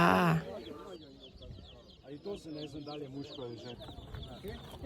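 Chickens and small chicks clucking and peeping in a busy run of overlapping calls, close and fairly loud after a brief louder burst at the start, with someone talking faintly underneath.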